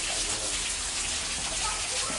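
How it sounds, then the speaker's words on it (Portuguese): Broadband, steady rushing water from a waterfall on castle grounds in a wooded park fills the scene, loud and continuous, with no break or change. "Tem até uma cachoeira aqui"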